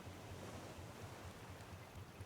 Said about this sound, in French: ça doit être les vagues